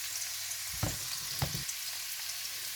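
Carrots stir-frying in hot oil give a steady, close sizzle, broken by two brief clanks of a utensil stirring the pan, with no talking.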